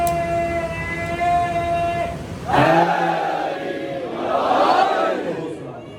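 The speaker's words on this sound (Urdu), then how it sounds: "مل کے بولو نعرے" Crowd at a Muharram majlis on Nicholson Road shouting a slogan together in unison, a loud massed roar following a sustained amplified voice, with a second swelling collective cry near the end.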